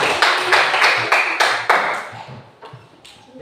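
Classroom applause for a student group at a primary school, a short burst of sharp, fairly close hand claps that fades over a few seconds into scattered lighter claps.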